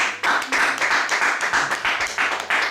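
A congregation at a church wedding ceremony clapping in a steady rhythm, sustained and fairly loud, with no talking.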